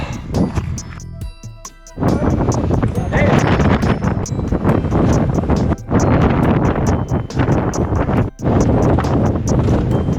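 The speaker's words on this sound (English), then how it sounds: "Just went over the neck, very windy and cold." Loud, continuous wind buffeting the microphone on a cold mountain neck during an ultramarathon, roaring almost nonstop with a couple of brief drops, heavy and close throughout.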